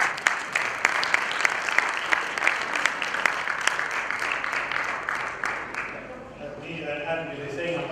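Session audience applauding presenters at a business conference, a dense round of clapping that fades after several seconds as a voice begins speaking.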